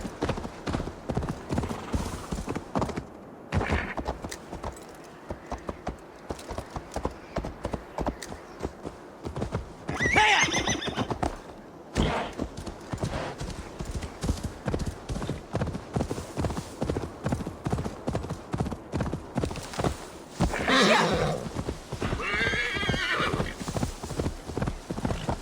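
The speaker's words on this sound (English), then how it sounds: "Alright, let's get us a horse." Horse hooves clip-clop steadily in Assassin's Creed Valhalla, with a couple of loud neighs and whinnies rising above the continuous rhythmic trotting.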